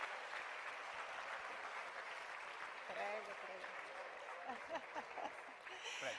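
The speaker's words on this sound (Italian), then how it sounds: "Facciamo un applauso ai nostri sottosegretari e viceministri." Audience applause at a Fratelli d'Italia political convention, a broad steady wash of clapping across the hall, with voices and cheers rising over it in the second half.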